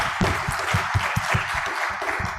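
A conference audience at an Islamic banking and finance event applauds its speakers, a steady, dense wash of clapping from a crowd filling the room for a couple of seconds.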